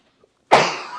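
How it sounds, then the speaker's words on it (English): One sharp, harsh cough bursts out after a brief silence, close to the microphone, trailing off into a rasping breath. "Saying I want to get rid of this cough."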